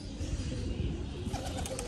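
Pigeons coo softly in low, throaty murmurs over a close, rustling background, with a few faint higher chirps near the end.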